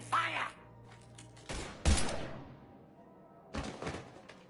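Two separate bursts of Mass Effect 3 gunfire crackle out loud and close, one short volley followed by another after a pause, over a low ambient hum.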